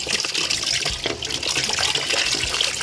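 Steady running water rushing from a tap while something is washed, a continuous close splashing flow throughout with no talking.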